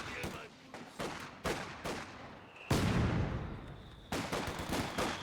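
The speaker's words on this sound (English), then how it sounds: "there's the barrage to follow up" A Company of Heroes 2 artillery barrage lands in a rapid series of loud booming impacts, one heavier blast near the middle, with an announcer talking over the battle.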